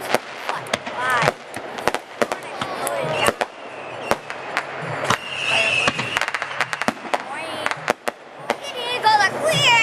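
Fireworks at a festival display burst in a string of sharp cracks and booms, some close together and some spaced apart, with excited voices and cheering from a crowd throughout.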